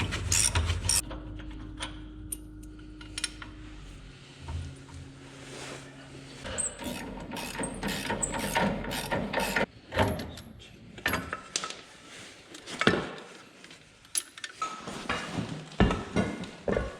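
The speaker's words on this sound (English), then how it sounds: "I have a new one back there, so I'm gonna get these bolts out." A wrench works bolts loose from a planter row cleaner: metallic clanks, ratcheting clicks and scraping knocks in irregular bursts, close by, after an opening stretch of steady mechanical hum.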